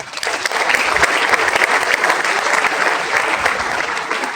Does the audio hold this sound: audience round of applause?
yes